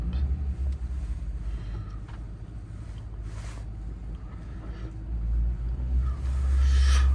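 A car with an automatic gearbox runs in drive with a low, continuous engine rumble nearby, swelling louder toward the end as it pulls away, with no talk.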